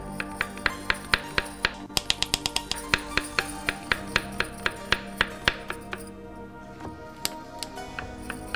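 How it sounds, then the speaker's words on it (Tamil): A knife taps steadily on a cutting board as vegetables are chopped for a healthy home-cooking dish, giving crisp, fairly close, evenly spaced strikes that speed up briefly, then slow and fade toward the end. "சரி, இந்த தண்ணீர் சுடும் நேரம் நம்ம காய்கறிகளை கூட நறுக்கி வச்சுக்கலாம்."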